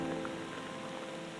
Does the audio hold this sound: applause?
no